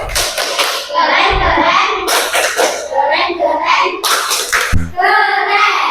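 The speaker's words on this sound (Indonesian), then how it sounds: "kita beri tepuk keren juga deh untuk kelompok 3" Classroom of children performing a rhythmic patterned clap chant for a group, sharp claps in bursts interleaved with loud chanting voices, close and energetic.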